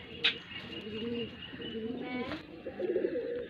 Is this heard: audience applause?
no